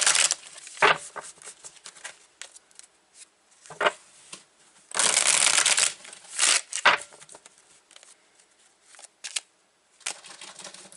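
Tarot cards are shuffled in quick bursts of riffling and flicking, close and crisp, with a longer continuous riffle in the middle and pauses between.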